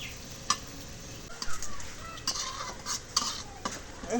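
Onions fry in oil in a pan while being stirred, with a soft steady sizzle broken by several distinct scraping and clinking strokes of a utensil, close and fairly quiet.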